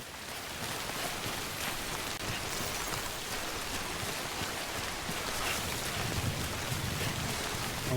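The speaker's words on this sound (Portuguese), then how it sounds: "Lembrando que a chuva temporal, ela detona as cargas, tá, gente?" Timefall rain pours in Death Stranding, a dense, steady patter of drops falling on surfaces.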